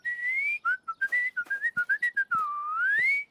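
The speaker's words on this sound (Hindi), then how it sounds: "सीटी बजा लेती है।" Someone whistles with pursed lips, a bright wavering tune broken into a string of short chirpy notes and then a longer sliding tone, clear and close with nothing else underneath.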